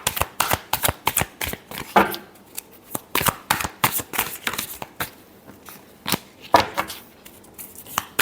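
A deck of tarot cards is shuffled over and over. Quick, crisp riffling bursts come in an uneven rhythm, close and fairly loud, with no talking.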